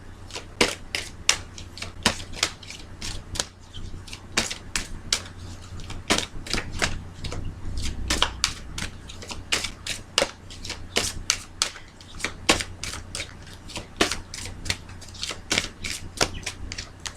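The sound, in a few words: shuffling a deck of cards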